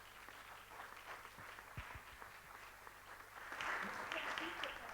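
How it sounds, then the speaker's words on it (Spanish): Crowd applause at a conference builds from scattered claps into fuller, louder clapping toward the end, with some background murmur. "Os pido un aplauso para ella."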